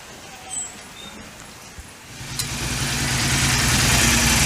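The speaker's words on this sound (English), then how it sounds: "It's got a nice quiet rumble when it's idling" Royal Enfield Interceptor 650 with a TEC stinger exhaust starting up and settling into a low, steady idle rumble that builds and holds, close by, after a few seconds of quiet handling noise.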